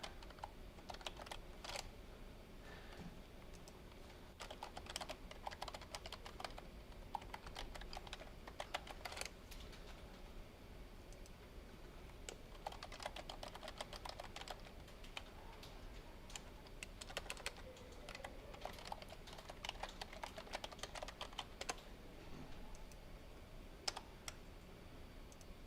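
Computer keyboard keys clatter steadily while data is typed into Microsoft Excel cells, with irregular bursts of close, crisp clicks and short pauses and no talking.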